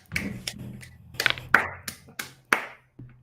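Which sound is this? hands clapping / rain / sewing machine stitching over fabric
hands clapping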